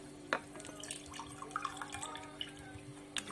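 Water poured by the cup into a quick cold dessert mixture in a home kitchen, heard as a faint, steady trickle with scattered light drips and splashes, no voices.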